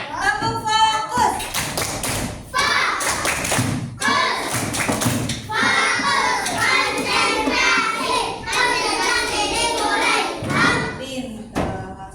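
A classroom of children performing a rhythmic 'tepuk fokus' clapping routine, loud bursts of claps and taps in a patterned rhythm, with a teacher's and children's voices chanting along throughout.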